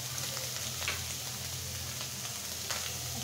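Prawns and leafy greens frying together in a hot pan, a soft, steady sizzle with faint crackles running evenly throughout, fairly quiet and close.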